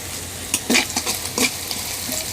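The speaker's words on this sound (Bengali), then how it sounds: "এখন ভালো করে নেড়ে পেঁয়াজের সাথে মিশিয়ে নিচ্ছি।" Frying onions tossed with panch phoron and bay leaf, a spoon scraping and stirring in a few quick bursts over a constant soft sizzle, close by and without talk.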